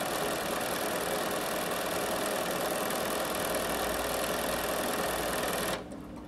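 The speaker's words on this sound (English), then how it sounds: "So this machine has stitched my buttonhole." A Bernina 7 Series sewing machine stitches a buttonhole automatically, humming in a steady rapid whir for nearly six seconds before cutting off abruptly.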